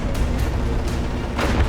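World War II tanks pelting a T-80 with cannon fire in War Thunder, a dense run of booming shots and rumbling impacts packed close together, loud and continuous.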